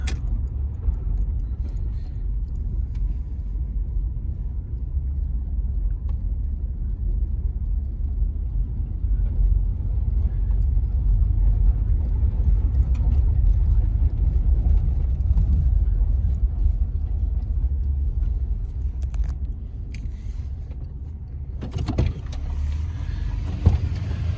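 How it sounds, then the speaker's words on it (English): A 1985 Pontiac Grand Prix engine idles steadily up close, producing a low, even rumble with a faint ticking, running alone without talk for the whole stretch. "I'm going to let the car idle and run for a few more minutes"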